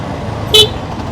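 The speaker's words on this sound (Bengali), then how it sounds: "সিএনজি দেখলে হর্ন দিতে হবে" A car horn gives one short, sharp honk in busy road traffic where CNG auto-rickshaws cut in, standing out briefly over the steady rumble of vehicles.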